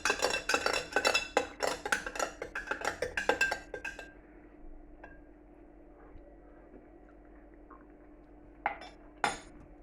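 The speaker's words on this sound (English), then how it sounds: "give that a stir, give that a taste" A spoon clinks and scrapes briskly against a cup while stirring Oxo Bovril instant soup, a rapid run of close metallic taps for about four seconds, then near quiet with two sharp clinks near the end.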